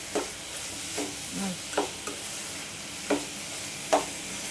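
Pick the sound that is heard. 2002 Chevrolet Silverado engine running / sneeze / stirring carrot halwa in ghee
stirring carrot halwa in ghee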